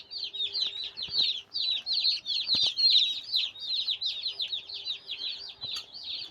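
Young broiler chicken chicks kept on a house veranda chirp and peep continuously, a dense, close chorus of rapid high cheeping with a few soft knocks and no talking.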